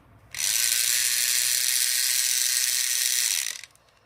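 The faulty electric motor of an old Tomy Plarail toy train whirs steadily for about three seconds with a high, buzzy rattle, starting and stopping abruptly, heard close up with no talk.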